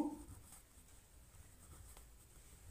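A pen writes out figures on paper during a math lesson. Soft, close scratching strokes are faint and intermittent against a quiet background, with no talk.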